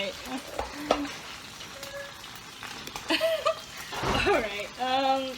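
Food frying in olive oil in an overheated pan, a steady crackling sizzle with occasional stirring scrapes, close by, while a person talks over it.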